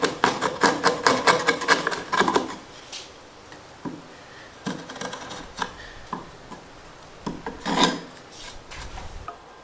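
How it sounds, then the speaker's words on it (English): A 1-inch chisel pares and scrapes timber-frame wood for a workshop stair landing, a quick run of rasping strokes near and loud at first, then scattered scraping cuts and taps, with no talking. "I have a 1-inch chisel."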